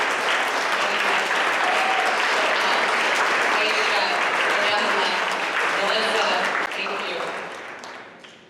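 A room full of people at a breakfast event applauds its speakers loudly and steadily for several seconds before the clapping gradually tapers off at the end.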